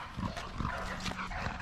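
Dogs shut in a backyard kennel whine and whimper from close by in a short, restless burst, with no talking over them.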